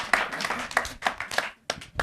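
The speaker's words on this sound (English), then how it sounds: "Let's clap for her, please." A small audience at an international school claps for a student, a few quick bursts of hand claps, close and fairly light, with brief pauses between.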